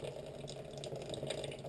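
Water draining from a plumbing sink, a steady continuous gurgling wash with faint trickles, close and alone with no talk.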